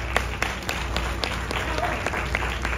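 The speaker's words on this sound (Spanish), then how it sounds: "Un aplauso para Héctor Pérez." Audience applause at a salsa congress in the Dominican Republic: a moderate crowd clapping with some sharp, distinct claps standing out over a low background hum and murmur.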